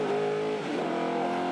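A Formula 5000 McLaren race car with a big high wing, its engine a loud sustained roar with a brief dip in pitch as it lifts, then a rise again, heard close on track at Pukekohe.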